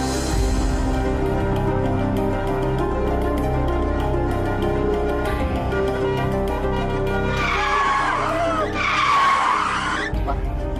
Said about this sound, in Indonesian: Ngebut banget sih ini mobil.